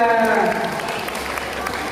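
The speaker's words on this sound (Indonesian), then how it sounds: "Baik, tepuk tangan semuanya." Students at a high school assembly clap together in a brief, fairly loud burst, while a voice speaks over the start of the applause.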